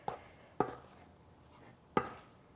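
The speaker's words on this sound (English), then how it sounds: "all you do is kind of do this and cut the butter into the flour like this" A knife or pastry cutter cuts butter into flour for scones, three sharp taps against a bowl or board, irregularly spaced, close and fairly quiet, with no talking.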